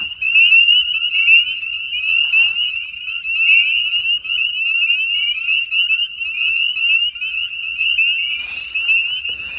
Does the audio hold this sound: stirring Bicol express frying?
no